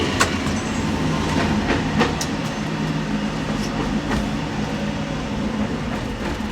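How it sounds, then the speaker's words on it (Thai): Steady rumbling ride in the cab of a new HXN5B shunting locomotive with Co-Co bogies, rhythmic thumping of wheels over rail joints, a continuous low drone with periodic knocks; no talking. "อันนี้จากเสียงดังตึ้งตึ้งตึ้งก็จะสังเกตได้นะครับว่าอันนี้เป็นแคร่ล้อแบบ CO CO"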